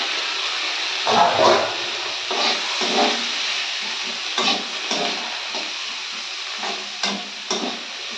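Chopped onion fries in a pan with a steady, fairly loud sizzle, and a spatula scrapes and stirs through it in short repeated strokes.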